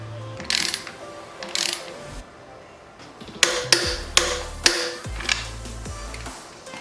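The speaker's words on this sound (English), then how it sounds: "So next we're going to torque down the swing arm pivot" A torque wrench ratchets on the swing arm pivot bolt of a Yamaha YZ125 dirt bike, with short bursts of clicking followed by a series of sharp, evenly spaced clacks up close.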